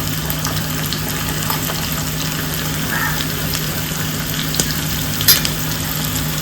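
Garlic and asafoetida frying in hot oil for a dal with aubergine, a steady close sizzle with occasional stirring clinks and faint background sounds.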